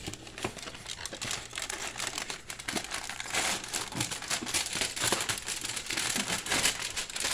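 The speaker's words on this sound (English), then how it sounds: "So we shall grab another thing of aluminum foil." Aluminum foil being crumpled and wrapped around lunch food, dense crinkling and crackling that runs continuously at close range with no speech.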